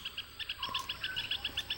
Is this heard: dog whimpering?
no